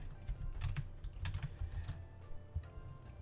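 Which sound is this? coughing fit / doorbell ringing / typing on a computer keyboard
typing on a computer keyboard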